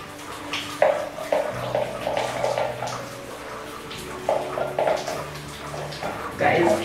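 Shower water runs steadily in a home bathroom, a continuous hiss and splatter with changing splashes as someone moves under the spray, while someone speaks intermittently.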